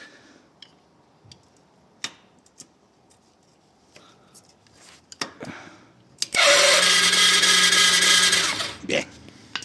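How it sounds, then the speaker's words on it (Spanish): Old starter motor cranking a Honda CBR 1000 engine fitted in a Polaris RZR, a loud sustained whirring crank of about two seconds after scattered clicks and handling knocks. "voy a probar con el motor de arranque viejo que tengo a ver. Y ahora ya gira potente."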